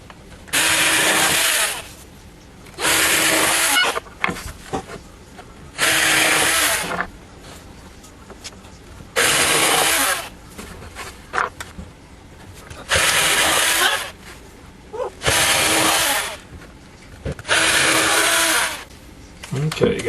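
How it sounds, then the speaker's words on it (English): A power drill pre-drilling holes in wooden cabinet supports, eight loud whirring bursts of a couple of seconds each separated by short pauses with faint handling noise. "Okay, got them all pre-drilled."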